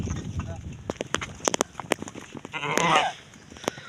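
A flock of sheep being let out to graze bleats in short overlapping calls amid clattering hooves and knocks, with a louder shuffling burst near the end and a voice calling among them.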